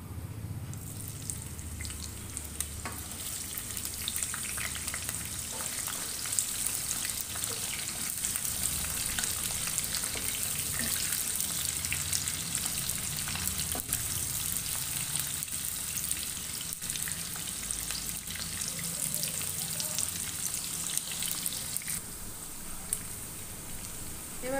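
Chopped onion fries in a pan for a restaurant-style chicken dish, a long, steady, rain-like crackling sizzle of even moderate loudness that continues throughout.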